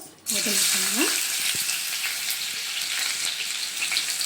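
Ginger and garlic are dropped into hot oil and burst into a loud, sustained sizzle up close. A brief voiced sound comes at the start, then the hiss continues alone.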